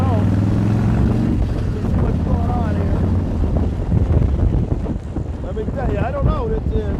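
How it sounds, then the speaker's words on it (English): Steady roaring wind buffets the microphone throughout a motorcycle ride around Palm Beach, with a constant low rumble and someone talking over it. "it's as windy as it's gonna get"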